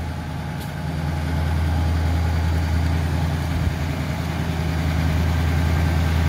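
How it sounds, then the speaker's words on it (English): A 1966 Pontiac Star Chief Executive's 389 V8 with a two-barrel carburetor idles steadily up close, a loud, even low rumble that holds without change throughout. "everything open and motor running"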